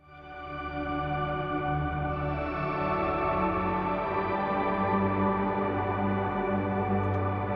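A sustained synth pad with heavy effects, thick and chorused with echoing tails, shifting chords held steadily for several seconds with no voices.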